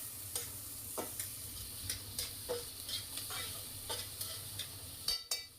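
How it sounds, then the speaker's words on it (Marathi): Vegetables for pav bhaji are sautéed in a pan, making a continuous soft sizzle punctuated by regular scraping strokes of a spatula, close and alone. "याला ना 2 मिनिटं जरा असं परतवते की चांगलं"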